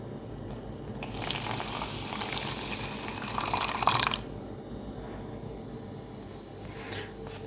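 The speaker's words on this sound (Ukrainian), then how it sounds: "заливаємо кип'яточком окропом." Boiling water poured from a kettle onto a pouch of couscous, a close hissing, splashing stream lasting a few seconds, then fading to quiet room tone.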